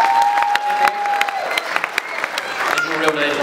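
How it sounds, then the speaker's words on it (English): Applause from a children's concert audience fills the clip, a dense steady patter of many hands at moderate loudness with a few louder claps, while a voice speaks briefly over it. "Round of applause."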